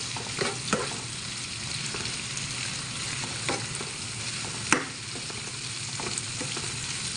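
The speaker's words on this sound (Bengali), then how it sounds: "এখন আমি মাছগুলা দিয়ে দেব দিয়ে নিলাম করে মাছ কাঁচামরিচ ভাজবো" Fish pieces and green chillies fry in a pan with cumin, making a continuous crackling sizzle with scattered taps from stirring.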